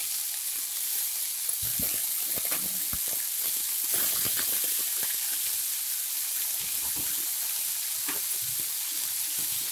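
Ponnanganni greens sautéing in a pan with onions, a steady close sizzle and hiss with scattered crackles and soft stirring scrapes, no voices.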